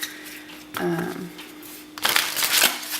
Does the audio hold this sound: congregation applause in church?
no